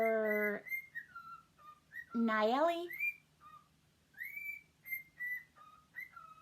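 A bird whistles the Star Wars theme, clear notes rising and falling in a short melodic phrase separated by pauses, with a brief spoken word and a rising call early on.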